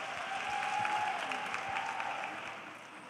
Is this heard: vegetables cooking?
no